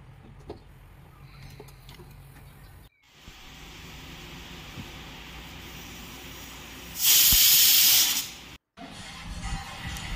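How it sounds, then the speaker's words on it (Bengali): Water poured into a hot pot for khichdi, already holding turmeric and oil, sets off a sudden loud hiss that lasts just over a second, rising out of quiet kitchen background before cutting off. "একটু জল দিয়ে দিলাম।"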